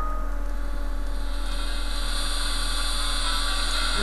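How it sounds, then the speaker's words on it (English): Persistent electronic whine from an HP 8569B spectrum analyzer's receiver in wide FM mode on the broadcast band as it sweeps across the span, a steady loud hum with tonal bands holding for the whole stretch and no talk. "you hear that really annoying whine. And what that is we're currently sweeping the frequency across the span"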